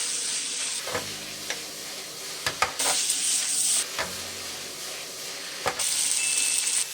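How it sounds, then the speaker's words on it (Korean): Chili powder sizzling and being stirred in hot oil for chili oil in a Korean kimchi stew recipe, a loud steady frying hiss broken by scraping stirs and short clanks, up close with no voices. "고춧가루 4스푼을 넣고 고추기름을 내주세요"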